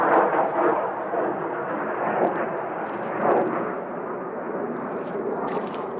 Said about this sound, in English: Wait until the jet passes.